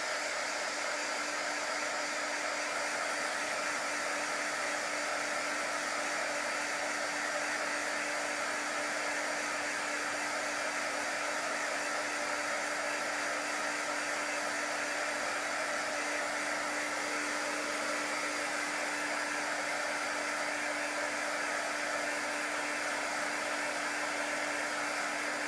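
A hair dryer runs steadily and close for the whole stretch, drying a chalked craft cutout with a constant whooshing blow and a faint whine.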